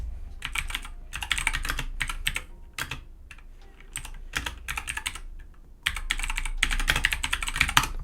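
Rapid typing on a computer keyboard, close and crisp, with bursts of clattering keystrokes separated by short pauses.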